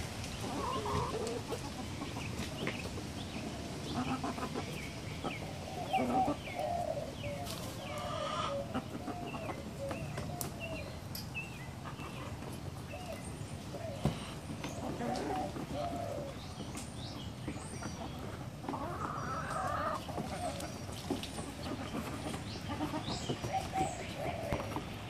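Australorp hens cluck and murmur softly while pecking at pork, a mix of low clucks and cooing calls scattered over a quiet outdoor background, fairly faint and without talking.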